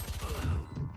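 A weapon reloads in Valorant, a short run of mechanical clicks and ratcheting metal over steady game ambience, close and moderately loud for about a second.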